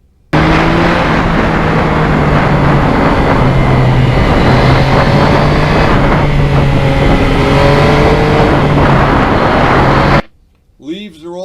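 A Yamaha MT-09 three-cylinder crossplane motorcycle with a quick shifter is ridden on a spring country road, its engine drone loud and close with a roaring rush of wind, pitch stepping through gear changes before cutting off abruptly.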